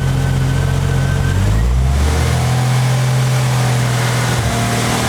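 A Jeep engine with a faulty crankshaft position sensor roars loudly close by, its pitch climbing then dropping and wavering as it revs, with a slight stumble near the end.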